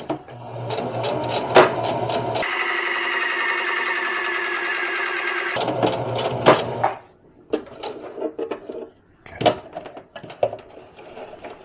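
A sewing machine runs one steady stitch for about three seconds, fairly close, in a truck converted into a camper; handling noises and brief speech follow.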